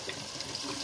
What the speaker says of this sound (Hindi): अब मैं डाल रही हूँ इसके अंदर पानी